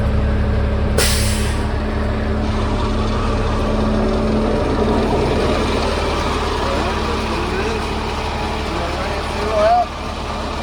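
Jet fuel truck with its PTO pump engaged, a steady low mechanical drone with a constant hum running throughout, a brief hissing burst near the start, and people talking over it.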